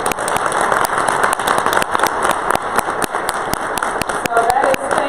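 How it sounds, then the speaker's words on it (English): A room full of people gives another round of applause at a hospitality leadership event. The clapping is brisk and continuous, with sharp individual claps standing out throughout and a murmur of voices beneath. "let's give another round of applause."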